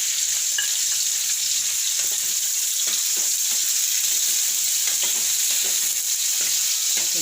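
Potatoes and green chillies fry in a pan for cabbage sambharo, a loud, continuous sizzle with faint stirring scrapes running through it and no voices.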